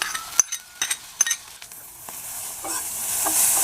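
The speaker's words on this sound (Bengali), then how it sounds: "মশলার মধ্যে মাছগুলোকে নেড়ে ফেলে 2 মিনিট রান্না করে তারপরে আমি এটাকে নামিয়ে নেব।" Pieces of fish are stirred in a spice paste in a pan, sending out a run of sharp scraping and clinking strokes before a rising hissy sizzle takes over.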